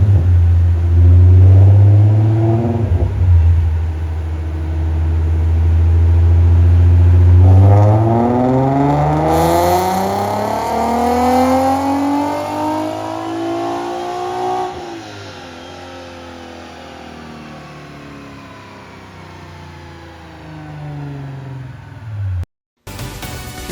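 A tuned Infiniti G37 Coupe on 93 octane revs up on a Mustang dyno, its loud engine climbing steadily through a long sweeping pull for about fifteen seconds, then dropping back to a low rumble before cutting off.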